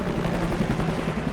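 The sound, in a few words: helicopter blades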